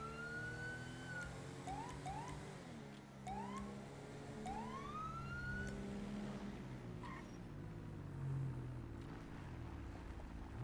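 Police car siren in the FivePD game, wailing up and down in several rising sweeps under steady engine and road rumble, with a brief different siren tone near the end.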